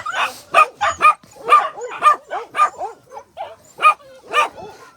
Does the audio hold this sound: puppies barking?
yes